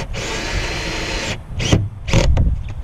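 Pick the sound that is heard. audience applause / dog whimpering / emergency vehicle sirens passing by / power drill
power drill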